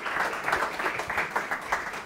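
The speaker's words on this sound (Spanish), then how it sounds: "Alexis, aplauso." An audience claps for a speaker being welcomed on stage at a talk on creativity, a lively burst of applause with distinct rhythmic peaks, fairly close and without speech.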